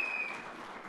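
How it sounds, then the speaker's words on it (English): Audience applause greets a speaker at a conference welcome address, a brief, faint, steady patter of clapping with a thin tone running through it. "Give a big round of applause to Toral."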